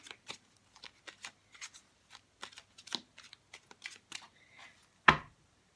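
Radiant Rider-Waite Tarot cards being handled and shuffled, a run of soft, irregular close papery flicks and taps, ending in one sharper slap as a card lands.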